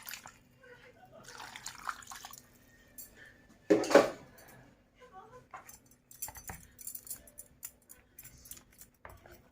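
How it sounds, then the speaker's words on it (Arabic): Cold water is splashed and poured over boiled lemons in a kitchen, with brief trickles and one louder splash against a dish, while someone talks. "هحط ميه ساقعه كده على الليمون"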